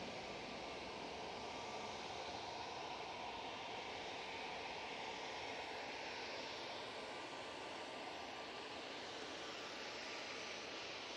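EasyJet airliner landing at Manchester Airport, a continuous engine rush and roar holding steady throughout, fairly distant and even.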